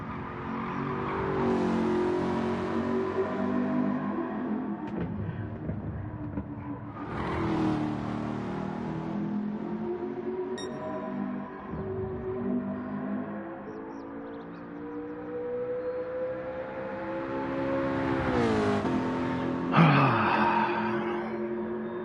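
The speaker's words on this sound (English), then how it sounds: "God, that car makes a pretty sound." Ford GT test car engine revving hard on a race track, rising and falling through repeated gear pulls with a strong harmonic howl, close and loud throughout, with no talk.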